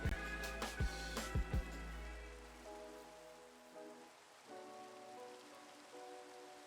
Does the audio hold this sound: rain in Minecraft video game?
yes